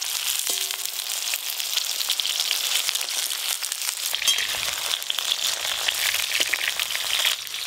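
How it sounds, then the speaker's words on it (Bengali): Chunks of cabbage dipped in gram flour batter sizzle as they deep fry in mustard oil, a steady crackling hiss with popping bursts that continues alone for several seconds. "গোটা গোটা বাঁধাকপির টুকরোকে বেসনে ডুবি ভাজতে হবে"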